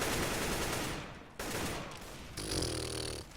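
Counter-Strike: Global Offensive gunfire, dense rapid bursts of rifle shots in two long volleys with a short gap, loud and close, ending with a ringing tonal effect.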